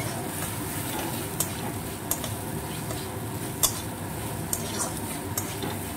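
Rice being fried in ghee with bay leaf in a pan, a steady soft sizzle under occasional sharp clicks of a spoon scraping and tapping the pan.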